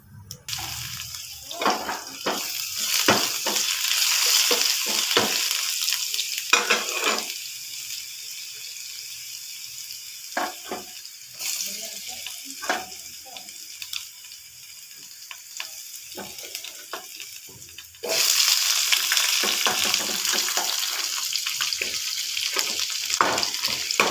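Cumin, onion, coriander and garlic hit hot oil for a tadka for moong and chana dal, giving bursts of crackling sizzle broken by quieter gaps, stirring clatter and a strong hiss that returns near the end.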